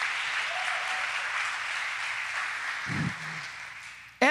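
A church congregation applauds in a steady, dense wash of clapping that carries on without a break, with a brief low thump near the end.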